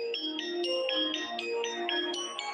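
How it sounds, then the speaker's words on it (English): Phone ringtone playing a repeating chirpy melodic pattern of bright electronic tones, steady and clear with no other sounds. "My outlook is abruptly changed when the phone rings."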